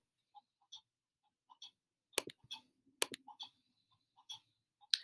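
Computer mouse clicks at a desk, a sparse series of quiet, close, sharp taps, some doubled, with a few louder clicks grouped in the middle.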